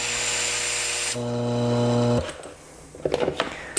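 A repaired Hiblow HP80 air pump runs with a steady, buzzing hum that starts loud and even, then cuts off partway through, followed by a few quieter knocks and handling sounds nearby.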